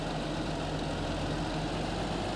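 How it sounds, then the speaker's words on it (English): A farm tractor with a trailer hitched idles in a steady low rumble, constant and unbroken, up close with nobody speaking. "I will park our tractor and the trailer right here"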